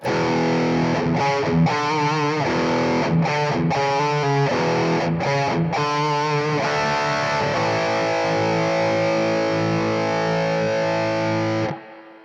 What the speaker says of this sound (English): here is the sound of the Amp 1 with the reverb by itself